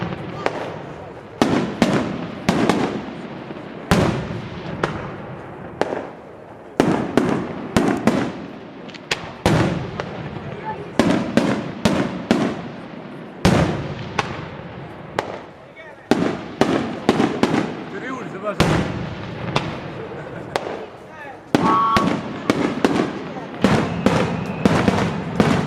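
Festival fireworks go off as a series of sharp, echoing bursts and crackles, spaced every second or two and continuing for about twenty-five seconds, with a voice speaking over an amplified system between the blasts.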